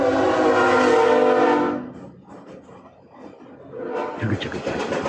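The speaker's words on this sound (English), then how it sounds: "Do you hear that? You can hear the chugga chugga." A passing train sounds its horn loudly at first, then fades to a low, slow rumble before a second swell of rolling rail noise, heard without talk.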